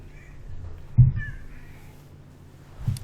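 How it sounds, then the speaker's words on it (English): A female house cat meows indoors, one short, fairly close call near the middle and a softer sound near the end, over quiet room tone with no talking. "The cat jumped up, had to move her down."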